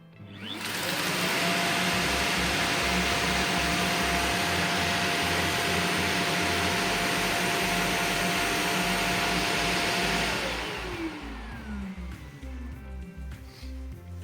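A Dreame D10 Plus robot vacuum's base auto-emptying: a loud, steady suction roar running for about ten seconds, then winding down into a lower, uneven whir.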